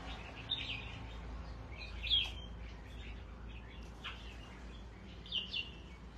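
Pet songbirds kept by a Vietnamese bird keeper chirp in short, scattered bursts: two or three brighter calls stand out over a quiet, low background hum.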